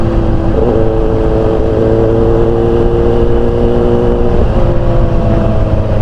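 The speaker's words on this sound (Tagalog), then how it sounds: "Motor." A motorcycle engine drones loudly and steadily close by while riding, its pitch holding and then shifting slightly, with no voices over it.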